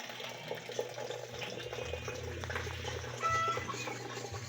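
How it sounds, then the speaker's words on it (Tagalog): Tap water runs into a pitcher at home, a soft continuous splashing and trickle heard fairly close, with faint background household noise and a brief louder gush near the end. "Nautusan maglagay ng tubig sa pitchel."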